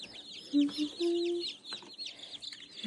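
Newly hatched baby chicks fresh from an incubator peep in a busy chorus of high, repeated cheeping, close by, with a few lower clucks or voice-like tones underneath.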